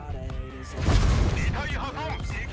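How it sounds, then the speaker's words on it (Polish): An artillery shell strikes a tank in World of Tanks, a heavy booming impact with a rumbling low-end burst midway, followed by metallic ringing and game effects; a voice is heard talking briefly at the start. "już pierwszy strzał dostałem od artylerii"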